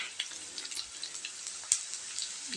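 Onions fry in a pan for a beans and carrot poriyal, giving a steady, close sizzle with small scattered pops and one sharper crackle, and no voice over it.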